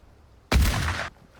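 A single loud, booming video game gunshot bursts out and rings for about half a second, then cuts off to quiet.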